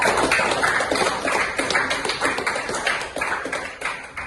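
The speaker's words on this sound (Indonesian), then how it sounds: "Tepuk tangan, luar biasa." A group of people applauds, brisk and steady clapping close by for a few seconds with no voices.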